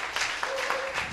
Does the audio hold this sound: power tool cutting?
no